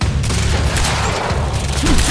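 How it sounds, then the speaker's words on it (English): Gunfire in the video game Quantum Break, a loud dense burst of rapid shots and booming impacts packed together over a couple of seconds. "when I shoot, I break up the shield also"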